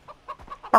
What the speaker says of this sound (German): Cool gemacht hier mit den Hühnern.